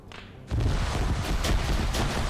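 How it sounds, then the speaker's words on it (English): Heavy gunfire erupts in a Stargate military operation game, a dense, loud barrage of overlapping shots and booms that starts abruptly after a brief quieter moment and continues without a break. "that's the type of gunfire I want to hear"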